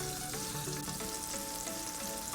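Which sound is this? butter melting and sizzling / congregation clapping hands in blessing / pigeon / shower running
butter melting and sizzling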